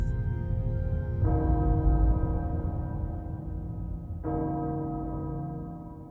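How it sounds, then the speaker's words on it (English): A castle bell in the video game Resident Evil Village tolls twice, slow and heavy, each deep strike ringing out and fading into a long resonant decay with no speech. "The castle bell heralds danger."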